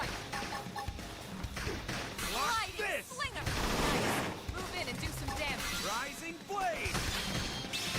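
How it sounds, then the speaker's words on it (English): Gunfire in the video game Xenoblade Chronicles X, with sustained bursts of shots and impacts blending with swooping, tonal in-game effects throughout, loud and dense with no pauses. "Gunfire."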